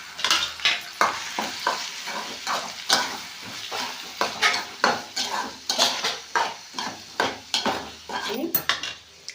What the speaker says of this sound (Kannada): ಇವಾಗ ನೋಡಿರಿ ಉಳ್ಳಾಗಡ್ಡಿ ಫ್ರೈ ಆದವಲ್ಲ, ಇವನ್ನ ಹಾಕ್ಕೊಂತೀನಿ ನೋಡಿ